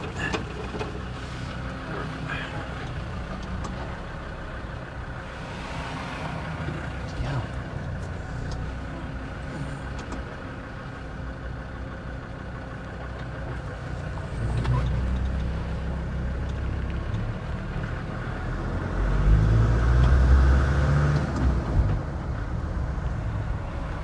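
A Land Rover Defender Td5 110 fitted with a GTB450 turbo and big wheels and tyres, driving with a steady engine drone and road rumble that swells louder toward the end as it accelerates.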